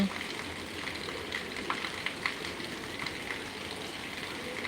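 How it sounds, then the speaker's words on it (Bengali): Heavy rain pours down in Noakhali, a steady, fairly quiet broadband wash with occasional louder drips and patters close by. "নোয়াখালীতে প্রচুর পরিমাণ বৃষ্টি পেরে যাচ্ছে"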